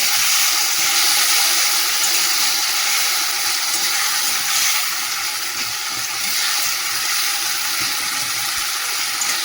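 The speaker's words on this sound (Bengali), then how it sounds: "একটু জল দিয়ে দিলাম।" Water hits spiced oil in a pan with ground cumin and ginger-garlic paste, producing a loud, steady hiss and sizzle that holds evenly throughout with no voices.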